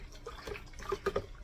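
Homemade liquid laundry soap stirred in a container, with soft close sloshing and a few small wet plops and drips in an irregular rhythm, no voices.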